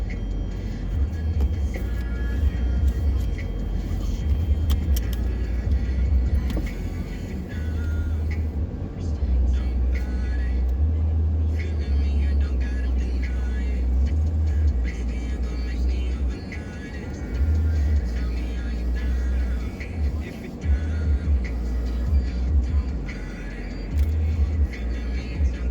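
Car driving along a street toward St. Paul, its steady low engine rumble and road noise continuous and close from inside the cabin, with occasional voices in the vehicle.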